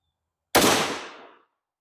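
A single sharp rifle shot from a CVA Scout chambered in 350 Legend, a straight-wall hunting cartridge, cracks loudly and close, then rings out in a decaying echo lasting about a second, with no talking.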